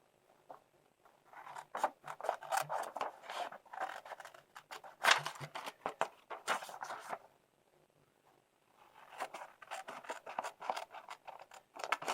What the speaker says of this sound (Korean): 얼굴 위에 있는 삼각 부분에 있는 파란 선을 따라서 양쪽으로 가위로 잘라줍니다.